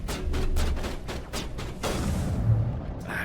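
Sniper and other gunfire from a firefight in the sci-fi video game Mass Effect, a run of loud repeated booming shots with rumbling low end, closely spaced over a few seconds.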